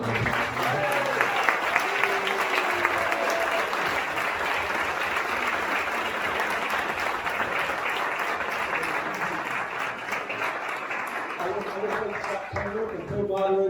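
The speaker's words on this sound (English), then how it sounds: "I want y'all to give these 9 candidates a round of applause" Sustained audience applause at a Georgia 6th congressional district candidate debate, dense steady clapping from a large crowd lasting many seconds with a voice speaking over it near the start and end.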